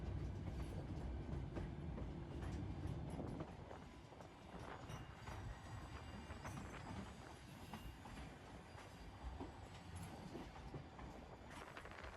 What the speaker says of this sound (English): The train made it to the top, to the turnaround loop.